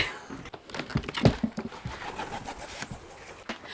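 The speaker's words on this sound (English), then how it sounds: "There's a pigeon walking across the ceiling." A pigeon moving across a roof above, with soft cooing and a few low thumps and scuffs of its steps, quiet and slightly muffled, and no voices.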